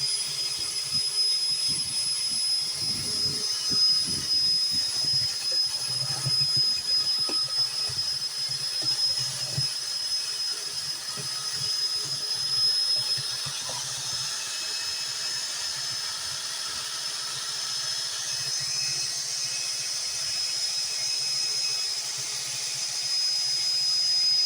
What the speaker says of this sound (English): I will just go ahead and mix it with my mixer